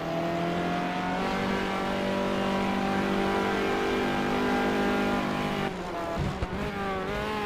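Race cars battle at Road Atlanta. A loud, sustained, high-revving engine whine shifts pitch through gear changes, with a brief lift and tire noise near the end.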